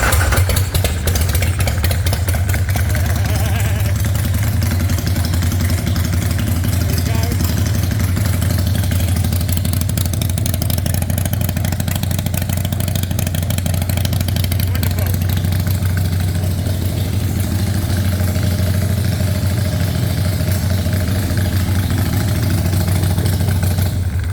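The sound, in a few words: handmade Harley chopper motorcycle engine starting and idling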